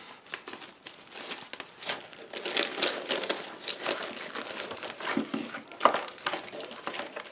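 Old Christmas cards get shuffled and handled close by, giving a continuous papery crinkling and rustling with small sharp crackles and taps throughout, at a fairly soft level.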